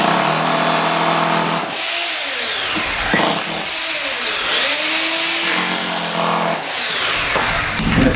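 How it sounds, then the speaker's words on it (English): A DeWalt electric breaker chiselling and trimming material, a loud continuous motor-driven hammering roar with pitch sweeping up and down as speed and load change, close and steady throughout with brief dips. "So that's an electric breaker. This particular one is from DeWalt."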